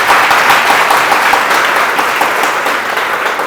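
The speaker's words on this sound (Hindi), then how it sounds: "अपने आप के लिए फिर से एक बार तालियां बजाइए" An audience claps at a motivational talk for UPSC and NDA aspirants, a loud, dense, sustained round of applause that stays steady throughout.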